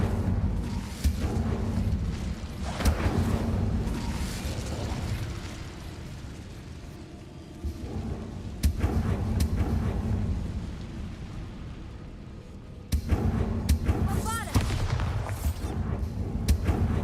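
An Incendio fire spell cast in Hogwarts Legacy, heard as loud, dense whooshing blasts and crackling bursts that repeat in waves, with brief quieter gaps between them.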